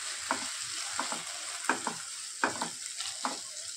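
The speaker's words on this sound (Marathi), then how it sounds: "भाजी एकदा उघडून हलवून बघूया" A spoon stirs Cassia tora leaves cooking in a pan, several distinct scraping strokes at a loose rhythm over a soft, steady sizzle, close and fairly quiet with no talking.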